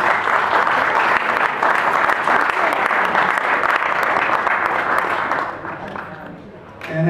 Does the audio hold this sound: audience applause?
yes